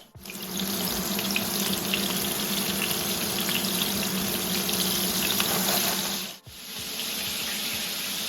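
Meat patties of minced beef searing in a pan of hot oil, a steady dense hiss that holds evenly for several seconds, briefly dips, then resumes just as loud.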